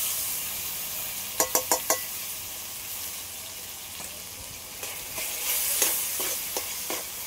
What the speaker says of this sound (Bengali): সবগুলো একসাথে একটু ভালো করে কষিয়ে নিই